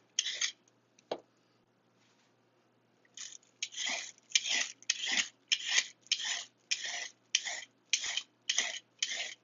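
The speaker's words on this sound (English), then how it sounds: "you take your potato peeler, or whatever the fuck you want to call it, and you shave down your carrots" A potato peeler shaving the skin off carrots: a few isolated scrapes, a pause, then a regular run of about a dozen close, crisp rasping strokes.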